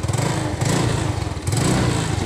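A motorcycle engine running steadily after a CDI repair, loud and close, with a throbbing idle that rises and dips slightly in two waves.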